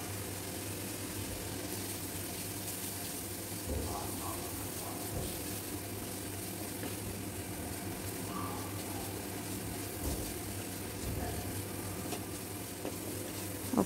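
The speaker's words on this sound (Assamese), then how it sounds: "নিমখ, হালধি, কাশ্মীৰী চিলি পাউডাৰ দি ভালকৈ ভাজি ল'ব" Stuffing for pointed gourd fries in a pan with salt, turmeric and Kashmiri chili powder, giving a low, even sizzle with occasional soft stirring scrapes, close but fairly quiet and steady throughout.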